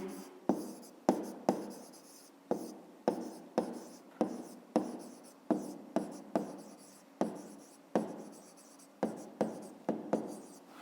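Pen strokes of an answer being written by hand on paper for a fifth-grade math exercise, a steady series of close, sharp scratching taps in short bursts with brief pauses, no talking.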